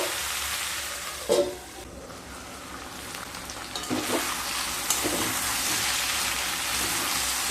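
A curry of pumpkin leaf stalks cooks in a pan. A soft, steady sizzle runs under a few scraping and clattering stirs of the spoon, one louder scrape early on and more toward the end.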